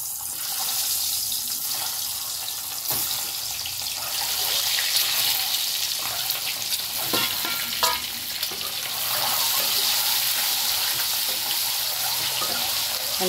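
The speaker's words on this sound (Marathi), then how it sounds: "एक एक करून अंडा सोडू." Eggs dropped one at a time into hot oil in a kadhai on a gas stove for egg curry, frying with a steady, loud crackling sizzle throughout, with occasional clinks and scrapes and no talking.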